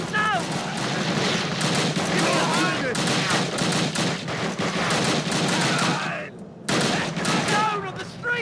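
Rapid machine gun bursts from a World War II battle in Call of Duty at Arnhem, loud and continuous with scattered shots, under shouted voices throughout and a brief lull near the end.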